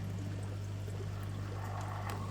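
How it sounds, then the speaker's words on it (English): Air bubbles stream up through aquarium water from a sponge filter, a soft continuous fizz and trickle over a low steady pump hum, quiet and close. "we can change the density of the water by adding bubbles"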